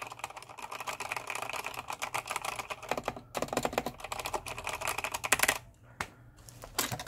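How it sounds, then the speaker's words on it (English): Rapid typing on a Corsair K70 RGB MK.2 SE RapidFire mechanical keyboard with silver keycaps on a silver frame, giving dense, continuous clicky keystrokes close up, with a brief pause near the end before a few final taps. "it's the keyboard"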